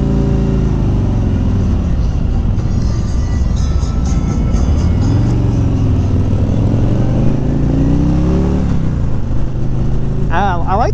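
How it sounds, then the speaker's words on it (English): A 2018 Harley-Davidson Street Glide engine idles with a steady, throaty exhaust rumble, close and continuous, with slight shifts in pitch. "I like the sound of the exhaust on this bike"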